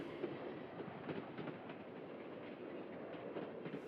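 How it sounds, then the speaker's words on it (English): An old train pulls out of a camp in winter, its open cars rolling with a steady rumble and rhythmic clickety-clack of wheels throughout, muffled like an archival recording. "An amateur film shot by a member of the Czech resistance from his window shows the last train leaving the camp"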